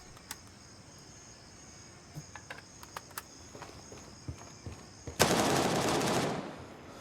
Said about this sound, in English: So right here we have shots.